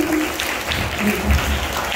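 Dense, steady applause from a crowd, loud and continuous throughout the short stretch.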